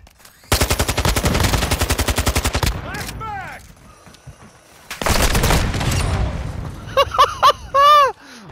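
Call of Duty: Modern Warfare 2 firefight: two long bursts of rapid automatic gunfire, loud and close, with blasts and scattered pops between them. Voices talk briefly in the pauses.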